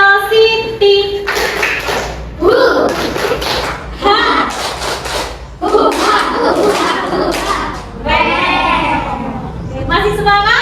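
A classroom group of children claps a rhythmic cheer chant together, bursts of sharp claps mixed with voices and a teacher's talk, close and loud, repeating in short bouts.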